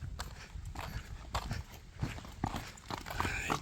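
A young horse, a colt, clip-clops with uneven hoofbeats, walking nearby on a hard surface, its steps fairly faint and with no voices.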